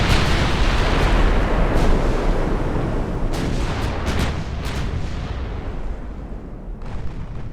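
A naval broadside in the warship game Ultimate Admiral Dreadnoughts, set in 1917 with Japanese ships, roars out as a loud, sustained wall of overlapping gun blasts and booms, with sharp reports rising through the rumble before it slowly fades.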